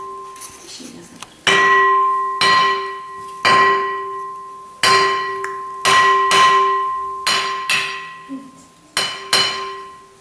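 A handmade ceramic bell from pottery craft is struck lightly again and again, each hit giving a bright clink followed by a long, sustained ringing tone that fades slowly, the strikes spaced unevenly.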